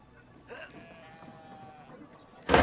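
A sheep bleats in Brothers: A Tale of Two Sons, a single wavering bleat heard fairly close over quiet ambience, followed by a loud sudden burst of noise at the end.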